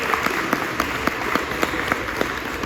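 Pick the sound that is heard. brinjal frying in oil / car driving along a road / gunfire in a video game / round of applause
round of applause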